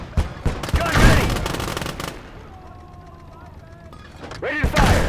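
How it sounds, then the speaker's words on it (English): Tank and anti-tank guns open up in the Call to Arms: Gates of Hell battle game, with a close burst of rapid gunfire and heavy blasts, a quieter stretch, then another loud volley. "The Panzer III and the Tank Hunter open up."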